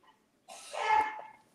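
A single sneeze from a person at a World Cup watch party, fairly close and moderately loud, preceded by a short breath in a quiet room.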